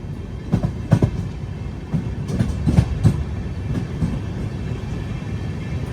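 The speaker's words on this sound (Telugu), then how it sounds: "విజయవాడ WAP 7 లోకోమోటివ్ అయితే పుల్ చేస్తుంది" AP Sampark Kranti Express hauled by a WAP 7 electric locomotive, running at speed with a steady heavy rumble and repeated rhythmic clickety-clack wheel beats, heard from inside the train.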